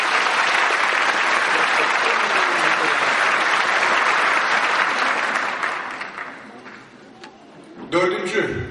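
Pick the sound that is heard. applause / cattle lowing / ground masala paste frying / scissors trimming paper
applause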